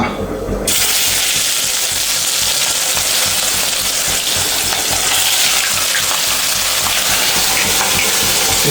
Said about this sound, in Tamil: சிக்ஸ்டி ஃபைவ் வந்து பொரிக்க போகிறேன் பாருங்கள்